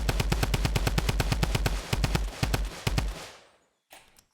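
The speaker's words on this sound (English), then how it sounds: "Now let's look at the drum gun." The drum gun in Fortnite fires a rapid, evenly spaced burst of loud shots for about three seconds. The burst then cuts off into near silence, with only a faint sound afterward.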